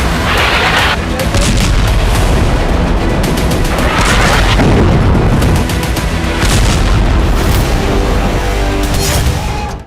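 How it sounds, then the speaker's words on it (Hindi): Bunker buster bombs striking high-rise buildings in an Israeli strike, a loud continuous barrage of deep booms and crackling blasts, heavily layered and distorted, with a few sharper impacts. "बंकर बस्टर बम का इस्तेमाल किया।"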